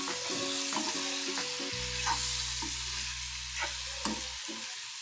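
Bitter gourd fry sizzles steadily in a pan after curry leaves and turmeric go in, with a few stirring scrapes over a continuous hiss and no voices.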